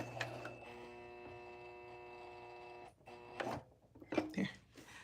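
Sewing machine back stitching a vest, a steady humming whir of the motor for a few seconds that stops, followed by a few short quieter bursts of stitching and handling noise.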